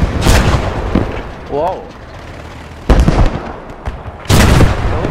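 Heavy booms from an 8.8 cm Flak 36 anti-aircraft gun in the game Post Scriptum, three loud separate blasts spaced a second or more apart, with a startled voice exclaiming between shots.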